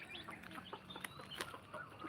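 Hens cluck softly at close range in a farmyard at feeding time, with several short overlapping clucks and a few sharper calls, faint against background noise.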